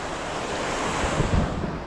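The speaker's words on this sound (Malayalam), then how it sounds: "നല്ല രീതിയിൽ തന്നെ കടൽ ശാന്തമായിട്ട് തന്നെ വളരെ ശാന്തമായിട്ട് കിടക്കുകയാണ്" Calm sea surf washes onto a beach in a continuous soft roar, with wind buffeting the microphone throughout.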